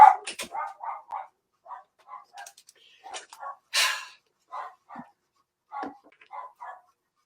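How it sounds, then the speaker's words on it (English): Several dogs bark in a room during a talk show recording, a string of short, clipped barks in irregular bursts, close and fairly loud, with someone speaking between them. "that is why the damn dogs are not allowed in the damn room when I'm doing the damn show"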